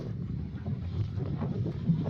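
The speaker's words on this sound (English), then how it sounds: "Too windy for me. I can't stand this crap. Just too windy." Strong wind blowing outdoors, buffeting the microphone as a steady low rumble with gusty surges throughout, loud and continuous with no voices.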